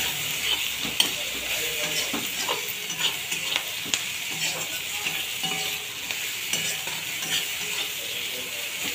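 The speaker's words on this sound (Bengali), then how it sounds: "পেঁয়াজটাকে একটু লাল লাল করে ভেজে নেব।" Onions fry in oil in a pan for fish-bone chorchori, a steady bright sizzle with intermittent scraping and stirring clicks, close and continuous, with no talking.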